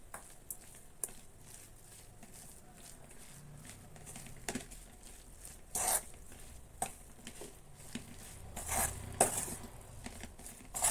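Minced mutton ball mixture being mixed by hand in a bowl with roasted gram flour, chopped mint and curry leaves, giving soft squelching and pattering with occasional clinks of the bowl, close and fairly quiet.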